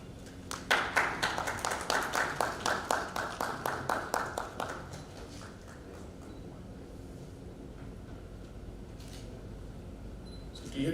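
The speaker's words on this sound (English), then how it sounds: "Let's keep clapping" Audience clapping at a live-streamed civic event, a short run of rhythmic, fairly close claps that stops after a few seconds, then faint room noise with scattered soft taps.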